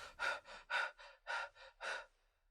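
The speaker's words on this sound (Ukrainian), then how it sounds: "І ми починаємо більш поверхнево і швидко дихати." Rapid, shallow breathing in quick audible gasps, about seven short breaths in steady rhythm, close and alone with no talk.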